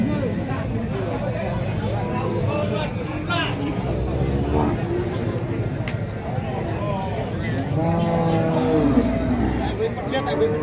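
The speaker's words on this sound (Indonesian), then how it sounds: "Ini sapi nih." Cattle at a cattle market (Pasar Sapi Kerek) give several drawn-out moos over a steady background of crowd babble and market noise, moderately loud and fairly close.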